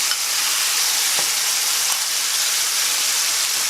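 Tamarind water poured into a hot pan sets off a loud, continuous sizzle and hiss with a few brief stirring clicks, heard close and alone.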